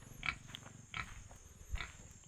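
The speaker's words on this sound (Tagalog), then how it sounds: "Ay, may mga alaga silang baboy dito." Pigs kept at a rural home in Jadi, Isabela, with a few short grunts and snorts at moderate distance, spread over about two seconds against quiet outdoor background hiss.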